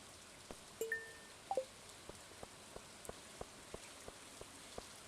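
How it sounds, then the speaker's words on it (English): Steady in-game rain in Stardew Valley patters softly across the whole stretch, with scattered droplet ticks and a few brief higher tones over a quiet, constant wash. "It seems like regular rain"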